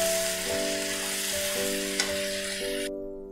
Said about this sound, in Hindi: 3-4 मिनट तक हम अपने चनों को चलाते हुए सेकेंगे।